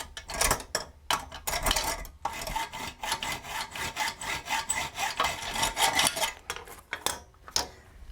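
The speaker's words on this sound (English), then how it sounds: "all I need to do is cut it off with the hacksaw" Hacksaw cutting off a metal toilet bolt: rhythmic back-and-forth strokes with a scraping, rasping tone, close and steady, with brief pauses between bursts.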